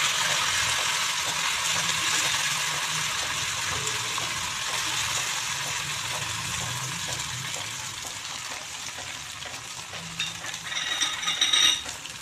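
Cumin, coriander, fennel seed and ginger sautéing in a pan for a Bengali katla fish-head ghonto, giving a steady, close hiss with a few light clinks near the end.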